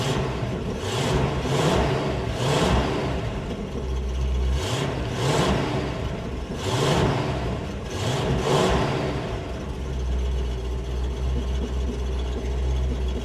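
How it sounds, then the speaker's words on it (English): A chopped 1950 Buick engine idles cold and rough, its uneven firing pulsing and sputtering with popping misfires from the plugs, loud and close with no talk. "Hear those plugs popping?"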